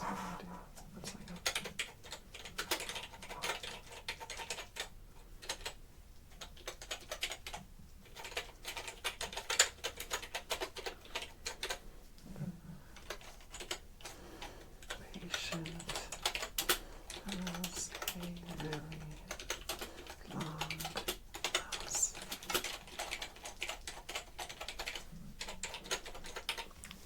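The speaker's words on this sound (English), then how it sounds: "So I'm gonna get those typed." Steady, fast typing on a computer keyboard, close and crisp with continuous clicking clatter throughout, a soft voice murmuring intermittently beneath the keystrokes.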